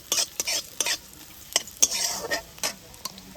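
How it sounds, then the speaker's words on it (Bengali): Chopped carrots fry in hot white oil for homemade masala pasta. A utensil stirs and scrapes the pan in repeated sharp bursts over a faint steady sizzle, close up, with no talking. "তেলটা খুব ভালোভাবে গরম হয়ে গেছে এখানে কিছুটা গাজর কুচি নিয়েছি দিয়ে দিচ্ছি গাজরটা এবার একটু ভেজে নেব"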